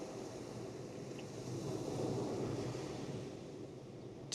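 Ocean waves wash onto a beach at dawn, a steady, broad surf roar that swells slightly in the middle and carries on with no voices present.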